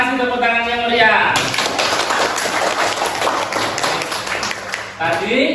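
A classroom group claps for a class presentation, a dense burst of applause rising after a short spoken lead-in and fading at the end, with voices around it.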